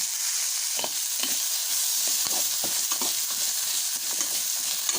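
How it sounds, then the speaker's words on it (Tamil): Small onions and tamarind sauté in a pan, a loud continuous sizzle punctuated by repeated scraping and knocking strokes of a spatula, close and uninterrupted by speech. "இப்போ எல்லாம் சின்ன வெங்காயத்தை போட்டுருங்க எடுத்து வச்சுக்க புளியும் போட்டுருங்க"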